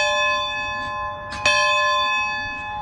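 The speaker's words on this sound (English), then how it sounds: "They do have a working bell out here in front" An outdoor church bell at a prayer tower in front of a lakeside church rings out as a single loud strike with a long, sustained metallic tone that hangs in the air and slowly fades.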